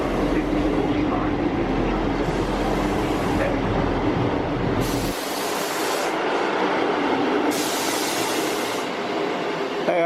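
A passenger train creeping into a platform at Doncaster station, a loud steady rumble of wheels and engine with rail clatter and a hiss of brakes, dominating throughout.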